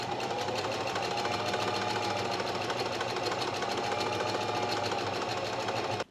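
A sewing machine stitches a buttonhole on linen pants with a steady, close, continuous mechanical whir that runs without pause and cuts off abruptly at the very end.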